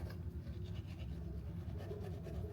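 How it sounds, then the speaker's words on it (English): Someone brushes their teeth with a toothbrush and toothpaste, giving a steady, faint, close scrubbing and rubbing sound with no talk. "I put the toothpaste on the toothbrush, and now I'm gonna put it in my mouth and brush"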